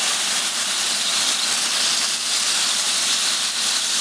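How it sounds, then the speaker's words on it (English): Chicken in a hot pan steams and sizzles after lemon juice is squeezed over it, a loud, continuous hiss holding steady close to the pan with no talking. "You can see the water from the lemon juice is steaming up."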